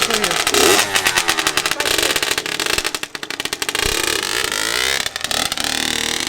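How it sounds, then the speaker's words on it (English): A motorcycle rides through a parking lot with a loud, close engine that revs and pulses. Its choppy exhaust note rises and falls, and there is wind noise. "Y'all see how sketchy Dedek rides?"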